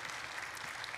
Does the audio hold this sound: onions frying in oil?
no